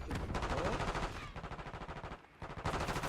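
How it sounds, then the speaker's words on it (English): Rapid automatic gunfire from a multiplayer match of Black Ops 6, a sniper-style exchange in loud, rhythmic bursts that pause briefly before resuming. "Sniper shooting."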